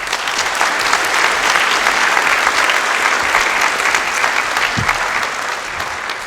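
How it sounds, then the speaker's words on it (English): A full round of audience applause for sophomore award students, loud, dense and steady from start to finish. "All right, if we can give one more round of applause for all our students"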